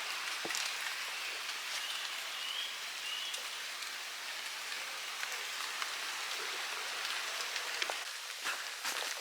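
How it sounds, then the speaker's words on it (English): Heavy rain falling steadily outdoors, a dense unbroken hiss of drops with occasional louder splatters close by, alone with no voices. "That's rained solid all the way down."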